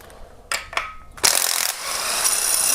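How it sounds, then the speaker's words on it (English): A ratchet wrench turns counterclockwise to loosen a normal threaded 17mm bolt during Kia Optima cylinder head removal, with a few separate clicks and then a steady, close, fast clicking run. "remove that bolt. This is a normal threaded bolt. Get it loose, going counterclockwise."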